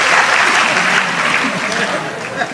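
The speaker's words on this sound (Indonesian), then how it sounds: "Tepuk tangan untuk Gus Kausar nggak apa-apa." A large audience at a religious study gathering applauds loudly and continuously for Gus Kautsar, a dense close wash of clapping that stays strong and tapers slightly toward the end.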